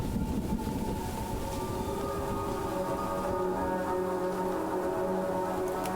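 Train from the video game Choo Choo Charles rolling steadily, a continuous droning rumble with sustained tonal hum and faint siren-like whine, loud and unbroken with no talking.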